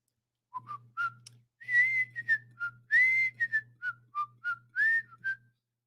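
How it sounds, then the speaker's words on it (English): A person whistles the theme tune of The Andy Griffith Show, a bright, clear melody of short and sustained notes, close and alone with no talk. "What's that Andy Griffith show with the whistling?"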